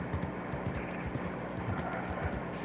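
Horse hooves clip-clop steadily in Red Dead Redemption 2, a rhythmic run of soft thuds over a low rumbling game backdrop, fairly quiet with no talk.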